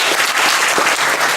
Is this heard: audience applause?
yes